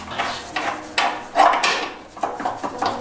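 A wrench works on the last camber bolt of a Nissan 350Z, giving a series of sharp metallic clunks and ratcheting knocks, with one louder crack in the middle, close and without speech.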